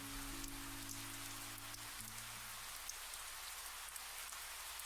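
Rain falls steadily in the visual novel Kira Kira, a soft even hiss with scattered drops and a low musical hum beneath that fades out partway through.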